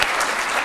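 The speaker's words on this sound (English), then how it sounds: "can we give him a round of applause on behalf of all of" A short burst of audience applause at a Wingate University education awards ceremony honors cooperating teachers, dense clapping heard alone for a brief moment.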